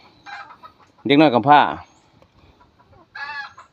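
Farm chickens cluck and call nearby in short bursts, with a loud, harmonic squawk partway through and another cackle near the end, while a person speaks faintly in between.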